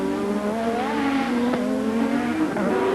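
Formula One race cars from the 1987 Australian Grand Prix warm-up, including two Ferraris, scream past with high, sustained engine whines that shift pitch as they rev and pass close by, loud and continuous with no talk.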